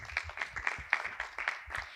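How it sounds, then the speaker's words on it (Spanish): Audience at an architecture networking event at Porcelanosa Málaga clapping, a modest burst of applause with uneven claps under a sustained tonal hum. "Daniel, fuerte aplauso para él"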